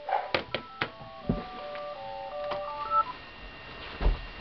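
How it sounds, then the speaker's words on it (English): A phone ringtone plays a short melodic sequence of electronic tones, close and fairly loud, with a few sharp clicks and knocks mixed in around it. "Oh wow, I really need to change my ringtone."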